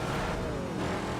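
Ford GT, an American muscle car, roaring loudly in a racing video game, its engine note sustained and rising slightly in pitch, close up with no voices.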